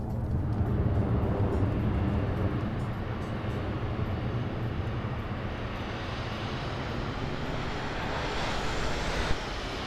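A jet aircraft roars past in a military air assault video game, a loud, continuous engine rumble with broadband whoosh that swells slightly toward the end.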